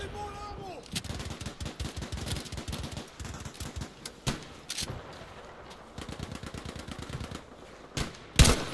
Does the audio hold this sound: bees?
no